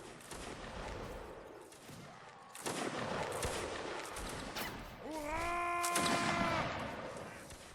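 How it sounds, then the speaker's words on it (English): Napoleonic reenactors of the 33rd Regiment of Foot fire muskets from rooftops at an outdoor anniversary event. Scattered cracking shots and rolling volleys sound at middle distance, with a sheep-like bleat briefly rising over them. "Some lovely shooting going on here from the 33rd on these rooftops."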